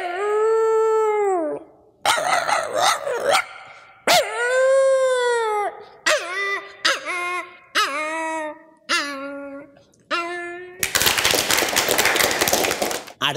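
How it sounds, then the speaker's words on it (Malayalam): A stray village dog howls and whimpers in long drawn-out wails, then gives a run of yips and short barks, loud and close, ending in a burst of harsh noise. "ബോർഡ് കണ്ട് പ്രതിഷേധിക്കുന്ന ഒരു നാടൻ പട്ടി"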